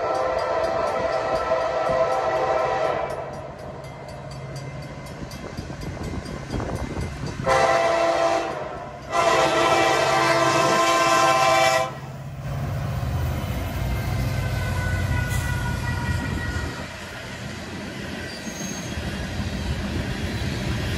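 A Norfolk Southern freight train, NS42N, rolls past near and loud with continuous wheel rumble and squeal, sounding several sustained horn blasts broken by a short gap, then the rumble carries on.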